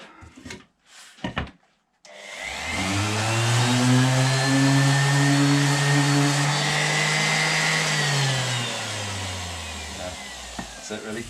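An Erbauer ERO400 random orbital sander starts up after a few knocks and runs with a loud, steady whirring drone that holds for several seconds before winding down.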